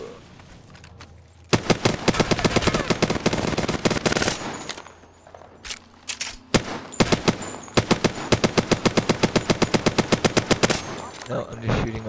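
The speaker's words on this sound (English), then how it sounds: "No, I'm just shooting my R9." Rapid automatic fire from an R-99 submachine gun in the Apex Legends video game, with loud bursts of fast repeating shots separated by short pauses, plus a few single shots and faint game sounds between them.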